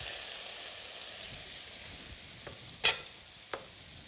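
Tofu stir-frying in a small amount of oil in a pan, a soft steady sizzle with a few brief scraping clinks of the spatula, heard close and alone without talk.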